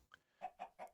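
Minecraft chickens cluck softly in an enclosed pen, a quick run of four short, evenly spaced clucks, faint and alone.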